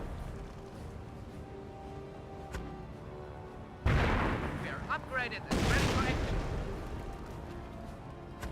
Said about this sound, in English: Was that a commando decoy barrage?